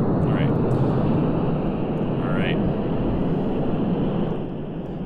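Loud, steady roar of aircraft engines in the space-flight game Kerbal Space Program, a broad continuous rumble holding for several seconds, with faint voices underneath.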